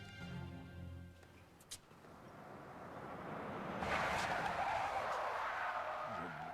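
A car driven recklessly skids, its tires squealing as engine noise swells and a harsh rushing screech builds over the last few seconds, with no talking.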